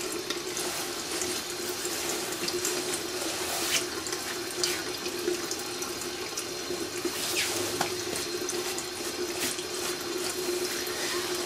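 Water pours steadily from a tap over a The North Face Apex Summit Thermal jacket, a continuous close splashing rush with no talk.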